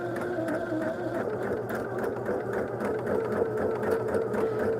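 Sewing machine quilting a migrating Lone Star quilt: a steady, close mechanical whir with rapid needle chatter running without pause, and no voices.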